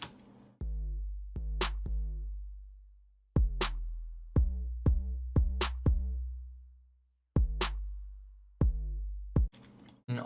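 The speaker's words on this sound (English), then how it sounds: "So then I have the snare and a clap layered together." A layered snare and clap drum pattern in a trap-style beat production, crisp hits punching over deep booming 808 bass notes in a steady, sparse rhythm with gaps between phrases, loud and dry with no voices.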